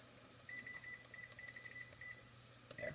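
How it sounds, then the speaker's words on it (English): Kitchen or classroom timer being set, giving a quick string of short electronic beeps in an uneven rhythm over a low steady hum, faint and close, with no one talking. "Okay, I'm gonna run my own timer here."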